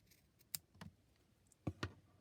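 Scissors cutting a paper tag, a few faint, sharp snips and clicks close by in a quiet room.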